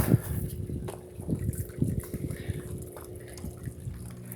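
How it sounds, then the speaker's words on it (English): Water runs through a homemade pond filter for ducks and turtles, a steady close trickle and splash with irregular gurgling bursts that ease off toward the end. "So we're getting quite a bit of water through here."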